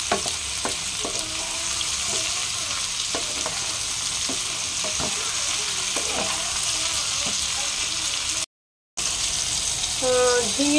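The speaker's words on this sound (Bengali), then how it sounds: "এবারে ভালো করে নাড়াচাড়া করে নিই" Ridge gourd and potato pieces fry with turmeric in a pan, giving a steady loud sizzle broken by the scrape and tap of a spatula stirring, with a brief silent gap near the end.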